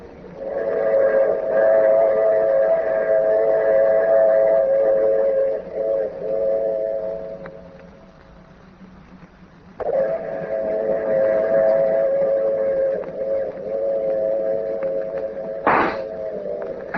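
In a 1940s detective radio drama, a train sound effect plays at a station platform: a long, loud droning rumble with layered tones fades briefly, swells back, and ends with a short whistle-like blast.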